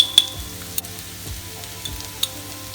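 Ground pepper being stirred into hot oil for goat curry, a soft steady frying sizzle with occasional scrapes of a spoon, close and alone without talk.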